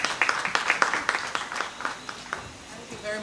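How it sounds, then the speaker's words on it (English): A round of applause at an evening launch event, scattered claps that come as distinct sharp hits and thin out toward the end, with faint voices underneath. "Give her a round of applause."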